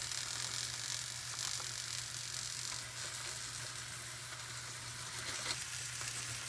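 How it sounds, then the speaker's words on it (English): Glazed salmon fries under a lid in a pan, a soft, even sizzle hissing steadily throughout with a faint low hum beneath and no talking. "I'm going to apply some of that into the salmon, which I'm going to cook on cover now for a few more minutes."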